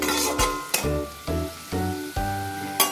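Oil sizzles steadily in a pan, broken by several clanking knocks of a utensil stirring and scraping against the metal.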